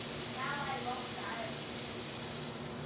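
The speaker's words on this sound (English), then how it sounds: "Then we're gonna do the steam wand test real quick." Steam wand of a La Pavoni Professional espresso machine, tested after a repair, gives a steady loud broadband hiss that holds for nearly three seconds before easing slightly, close up and with no talking.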